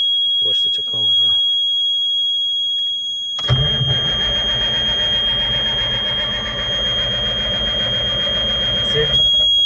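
The starter of a stalled Sterling dump truck cranks its engine in a long continuous churning run of roughly six seconds, close and loud, after a voice and under a steady high-pitched whine.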